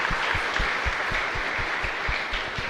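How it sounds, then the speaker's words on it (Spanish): A church congregation claps for a music group during a live Mass at San Miguel Arcángel parish in San Lorenzo, producing a steady, dense wash of applause that holds at even loudness for a few seconds. "un fuerte aplauso entonces para ellos también"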